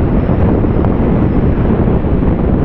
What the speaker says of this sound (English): That's very windy.